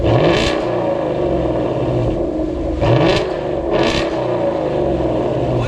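A 2019 Ford Mustang GT with a Corsa Xtreme exhaust idles with a deep burble, then revs in three sharp, loud blips that fall back to idle, close by.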